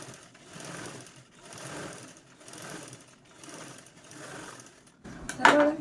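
A sewing machine stitches a zipper onto a small piece of fabric, running in a steady rhythmic whir that pulses in regular cycles and then stops with a brief mechanical clatter at the end.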